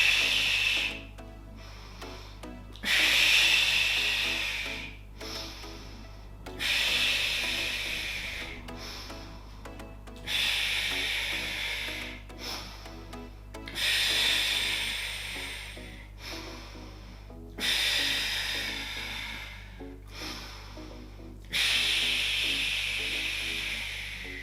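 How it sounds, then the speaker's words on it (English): Slow, deep breaths during a postpartum core workout, with about eight long airy exhales and inhales repeating steadily, close and fairly loud over a low steady hum, with no talking between them. "deep breath in, fill the belly, breathe out"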